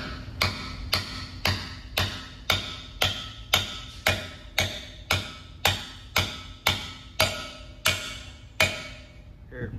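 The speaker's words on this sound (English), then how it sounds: "Hammer." Steady, evenly spaced metallic taps of a hammer driving an injector cup into a CAT C7 engine, about one and a half per second, crisp and close with nothing else in the background.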